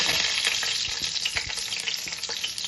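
Whole spices (shahjeera, cinnamon stick, cardamom and cloves) frying in hot oil for a bomma fish pulusu, giving a steady, fairly soft crackling sizzle with scattered pops and no voices.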